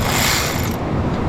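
A ratchet wrench clicks rapidly and continuously while turning a fitting on a Dodge Ram truck, close and loud, with a brief pause near the end.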